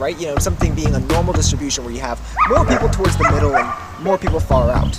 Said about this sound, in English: so if you hear some barking, it's because there's some really adorable puppers just having at it with some ball and string.